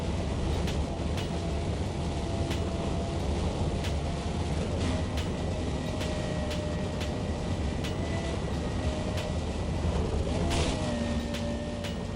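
A fast race car with a CVT transmission drives in the Need for Speed World video game, a steady engine drone with tones that shift now and then and regular faint clicks, at a constant moderate level with no talking.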